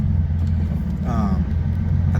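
Car fitted with new test pipes and a Z1 clutch kit idling with a deep exhaust rumble, a brief rev rising in the middle, while someone talks over it.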